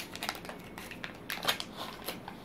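A Ziploc plastic bag crinkles in a quick series of sharp, dry rustles, close and fairly quiet, with brief pauses between bursts and no talk.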